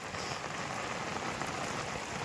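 Heavy overnight monsoon rain pours steadily onto a flooded farm field, a dense, continuous hiss of downpour that stays close and loud throughout with no voices.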